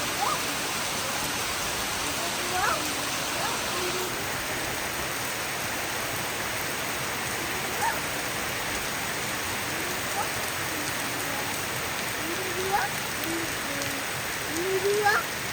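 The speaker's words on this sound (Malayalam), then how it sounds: "അവിടെ നാട്ടിൽ ഒരു വെള്ളം ഇങ്ങനെ നല്ല അടിപൊളിയായിട്ട് ഒഴുകിക്കൊണ്ടിരിക്കുന്നത്" Rainwater rushes steadily down a road in a continuous broad hiss like heavy runoff, with faint distant voices now and then beneath it.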